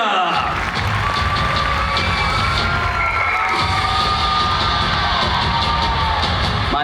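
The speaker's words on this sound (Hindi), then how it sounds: "कम ऑन एवरीबॉडी, जोरदार तालियां" A crowd at a sports festival event in Nagpur cheers and whoops continuously, with shouts and some applause, loud and steady throughout while voices rise above the noise.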